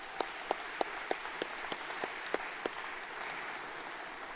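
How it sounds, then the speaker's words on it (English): Graduation commencement audience applauds steadily, a broad, even wash of many hands with a few distinct nearby claps early on that fade into the blended crowd sound. "please give them a round of applause."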